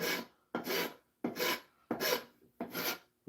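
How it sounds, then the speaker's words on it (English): A half round rasp files wood in five steady, even strokes, each a broad scraping rasp followed by a short pause, close up and alone. "that'll work like a round file, round rasp, or a half round rasp a little better than the big flat surface"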